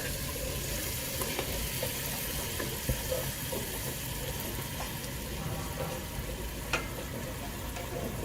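Mushrooms fry in melted margarine in a pan with a continuous close sizzle, broken by occasional soft clicks and taps from handling.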